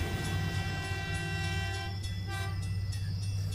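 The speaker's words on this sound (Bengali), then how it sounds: "তার সাথে ট্রেনটা এসে দাঁড়ায়।" A train pulls into a station with a steady, loud mechanical rumble and sustained horn-like tones sounding throughout, close by with no talking.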